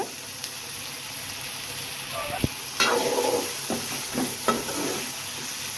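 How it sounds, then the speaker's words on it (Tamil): Tomatoes sauté in a pan for a dried fish curry, with a steady hiss of frying under occasional scraping stirs and a couple of clunks from the utensil. "தக்காளி நல்லா வதங்கி வரட்டும் தொக்கு பதத்துக்கு வரணும் வதங்கி"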